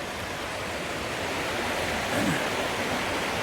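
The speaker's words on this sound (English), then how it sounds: "The river's coming through here" A river in St. Vincent's rainforest rushes in a steady, dense broadband roar, close and constant, with no voices over it.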